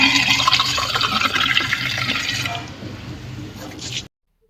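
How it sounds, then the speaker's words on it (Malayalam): Unfiltered water gushes straight from a pipe valve during a vessel filter installation, a loud, steady splashing rush that weakens slightly before cutting off abruptly near the end. "ആദ്യം ഫിൽറ്റർ വെക്കാണ്ട് എടുത്ത വെള്ളമാണ് ഡയറക്റ്റ് പൈപ്പിൽ നിന്ന്."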